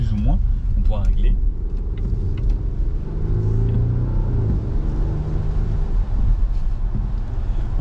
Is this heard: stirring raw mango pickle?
no